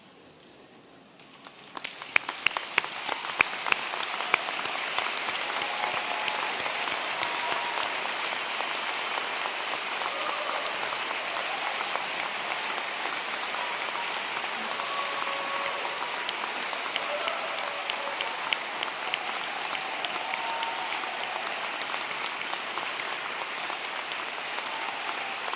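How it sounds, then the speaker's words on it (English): A large crowd at a university graduation ceremony claps steadily and continuously, a dense even wash of applause that starts abruptly and carries on without pause. "can the graduates stand and turn towards your supporters and applaud them"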